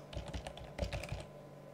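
A short burst of quick keystrokes on a computer keyboard, several soft clicks in a row, faint and close.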